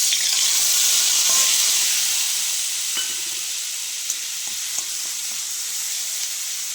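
Mustard leaf paste sizzles in hot oil in a wok, a bright dense hiss that eases slightly over time, with scattered soft taps from stirring.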